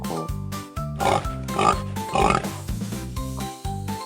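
Pig grunting and oinking in short repeated bursts over a bouncy melodic children's music backing, loud and close, with no talking.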